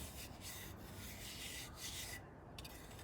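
A trowel burnishes the wall of a sand castle tower, giving a soft, continuous scraping rub of metal on packed sand, faint and close with no voices.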